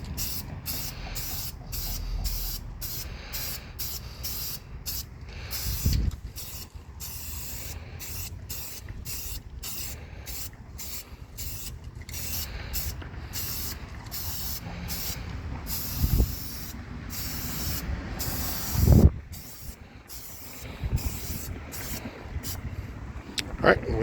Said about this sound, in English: Satin Black, and then we'll just go ahead and spray it on there